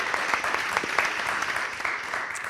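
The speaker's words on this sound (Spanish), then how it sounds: "Un aplauso para Bernal, por favor." An audience applauds at a live interview event, dense clapping sustained evenly for a couple of seconds at close range, with no speech over it.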